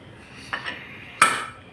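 A metal lid is set onto a pressure cooker holding boiling pasta, giving two clanks: a lighter one first, then a louder, sharper metallic clatter, heard alone.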